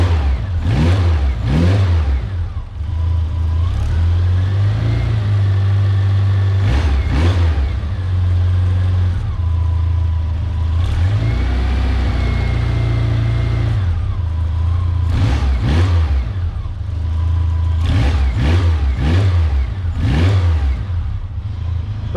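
A Toyota FJ40 engine idles steadily after a fuel system repair, a loud, even mid-pitched rumble close by, with several short revs rising and falling over the idle.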